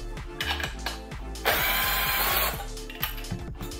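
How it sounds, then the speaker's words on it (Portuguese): A power tool whirs to remove screws from the chain adjuster on a Honda Grom motorcycle, with a rapid ratcheting click running through the clip and one longer, louder burst of spinning in the middle, heard close up and without talk. "temos que remover os dois parafusos do afinador"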